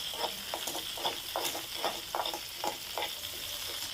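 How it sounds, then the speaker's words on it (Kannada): Thick onions, garlic and ginger sizzle in a pan for a dhaba-style egg curry, with a constant fry hiss and repeated nearby stirring scrapes at a steady pace. "2 ದಪ್ಪ ಆನಿಯನ್ನು, ಒಂದು 10 ಎಸಳು ಬೆಳ್ಳುಳ್ಳಿ ಮತ್ತು ಸ್ವಲ್ಪ ಶುಂಠಿ ತೊಗೊಂಡು ಏನು ಮಾಡ್ತಾಯಿದ್ದೀನಿ, ಇವಾಗ ಫ್ರೈ ಮಾಡ್ಕೊಳ್ತಾ ಇದ್ದೀನಿ"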